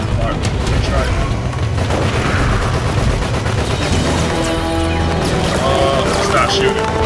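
Dense, loud gunfire and explosive booms fill a Resident Evil video game firefight with a double-barrel shotgun, continuous and chaotic, while a voice talks over the noise.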